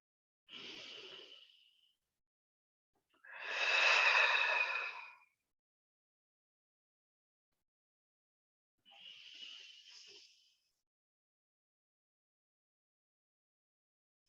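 Three slow, deep breaths during a relaxing yoga session, each a soft, airy rush lasting a second or two, separated by long silent pauses, close and with no speech.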